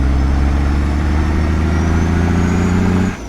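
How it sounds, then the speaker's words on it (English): A heavy truck engine in American Truck Simulator drones at low, steady revs, a deep rumbling hum held evenly and loud before cutting off sharply near the end, with no talk over it. "I don't mind a low revving engine."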